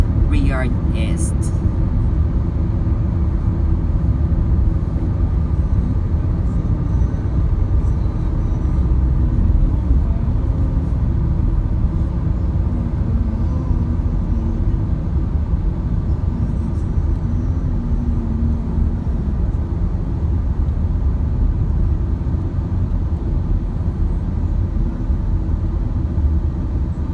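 Inside a car moving through city traffic in Riyadh's Batha area, a steady low engine and road rumble drones without pause, with voices murmuring underneath.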